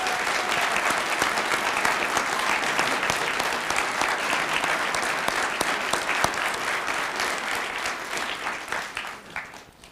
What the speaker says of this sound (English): Please give a round of applause for this amazing group